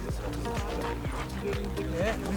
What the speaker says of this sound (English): look at all these horses